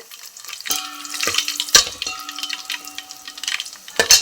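Mustard seeds and cumin frying in hot oil for a Telangana-style tamarind dappadam: a soft, steady sizzle broken by a handful of sharp pops and clinks, close and fairly quiet, with no voices.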